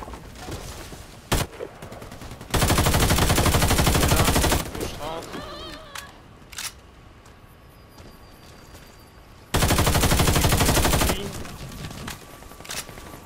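Automatic gunfire in the online shooter Warface comes in two long sustained bursts of rapid shots, with single isolated shots in between, loud and close over quieter stretches.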